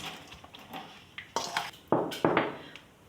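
A spoon clinks and scrapes against a metal bowl while chicken marinade with dried coriander, turmeric powder and crushed garlic is mixed, a handful of sharp, close, ringing knocks with no talking.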